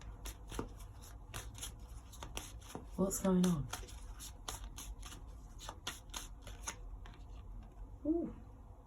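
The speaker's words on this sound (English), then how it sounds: "Let's shuffle these cards." Tarot cards shuffled by hand make a run of crisp, rapid riffling clicks and flutters across the whole stretch, close and fairly quiet, with a voice speaking briefly partway through and again near the end.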